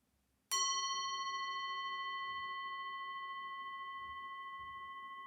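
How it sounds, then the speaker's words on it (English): A single bell is struck once and rings out with a clear, sustained tone that slowly fades, with faint background murmur beneath. "just listen to the sound of the bell"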